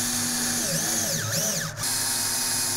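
A power drill driving screws into wooden deck boards outdoors, whining up and down in pitch over a steady hum as the screw goes in, close and loud, with no talking.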